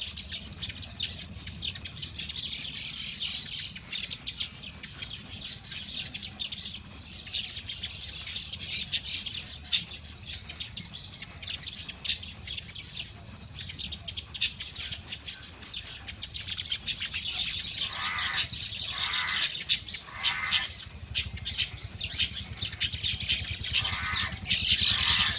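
A flock of baya weavers (Ploceus philippinus) chirps and calls steadily throughout, the males giving advertising calls together in a dense, overlapping chatter of tweets and squawks at a fairly close, constant level.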